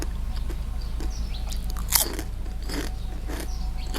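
Crispy baked vegetables, okra, are bitten and chewed up close, with crisp crunches and one louder snap over a steady low background hum.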